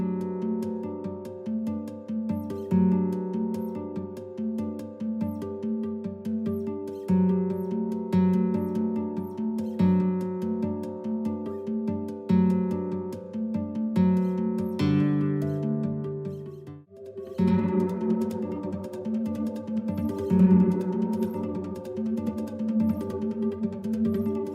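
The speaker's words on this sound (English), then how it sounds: "an effect I call the raindrop effect that sounds like this." Electric guitars processed in Max MSP with distortion, reverb and a raindrop-like effect ring out in sustained, repeating chords; a brief dip near the middle is followed by a brighter, shimmering restart, steady and moderately loud with no voices.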